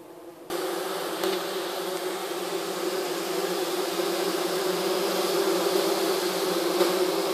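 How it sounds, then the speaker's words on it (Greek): Bumblebees buzz steadily at the low entrance of a Natupol Booster pollination hive, a dense continuous drone close by that swells in after a brief quieter opening and holds with no talking. "Εδώ χαμηλά είναι η έξοδος και η είσοδος των βομβίνων"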